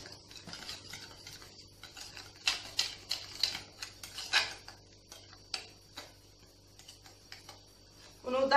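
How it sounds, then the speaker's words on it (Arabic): Dry ingredients for chocolate Danette pudding, including a large spoonful of cornstarch, are stirred in a bowl with a spoon, giving repeated light clinks and scrapes in an irregular rhythm, close and fairly quiet. "يعني مهم نخلطوا هذه المكونات الجافه"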